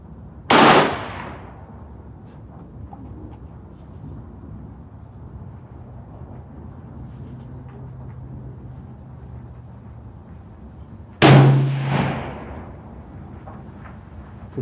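Two loud, sharp rifle shots from a TC Compass chambered in 6.5 Creedmoor, fired without a muzzle brake, about ten seconds apart, each with a short echoing tail over a steady low background hum.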